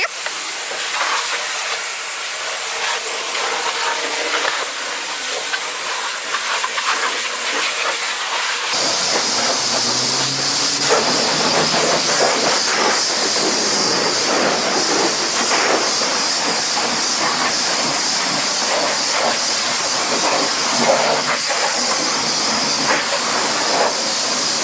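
A car wash pressure washer hisses steadily in a quick rinse, first thinner, then jumping to a louder, fuller spray with splattering water for the rest of the stretch.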